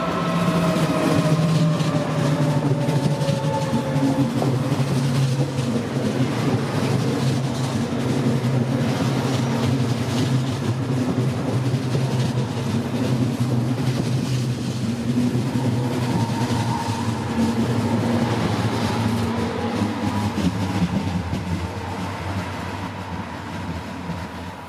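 An S5 S-Bahn train rolls into Friedrichsdorf station with a loud, steady rumble of wheels and motors, easing slightly softer toward the end as it slows.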